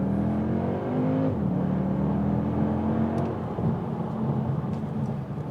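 A 2022 Audi SQ2 Vorsprung compact SUV accelerates hard, its engine note rising in pitch and shifting once before climbing again, loud and close with a steady rumble throughout.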